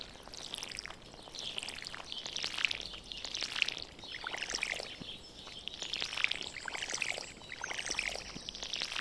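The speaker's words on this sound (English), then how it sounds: "I know I gotta water these, so let's water these." A watering can waters crops in the Stardew Valley video game, with soft repeated pouring splashes in short bursts, faint and gentle, alongside light game birdsong.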